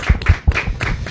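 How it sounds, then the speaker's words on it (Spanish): An audience at a wrestling show applauds in a short burst of a few sharp, rhythmic claps, close and fairly loud, with no voices over it. "Así que un aplauso para todos ustedes."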